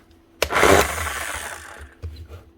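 A Makita HM0860C chipping hammer with a badly burnt-out armature runs in a short, rough, whirring burst that quickly fades, then gives a second brief, weaker spurt, fairly close with no speech.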